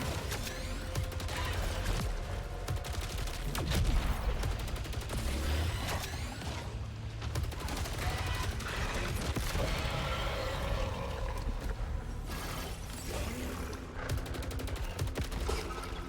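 Gunfire from a stronger weapon in the video game Saros, a dense, sustained barrage of rapid shots with mechanical clatter, loud and continuous throughout.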